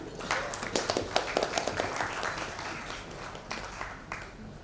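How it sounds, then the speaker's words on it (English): A conference audience at a digital trust panel in Dhaka applauds the panelists, moderate scattered clapping with sharp individual claps standing out, fairly steady and thinning slightly toward the end. "A round of applause, ladies and gentlemen."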